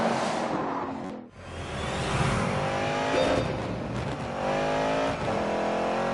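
A muscle car engine revs loud and close throughout, its rising and falling tone holding steady with a brief dip and a cut near the second mark, no voices over it.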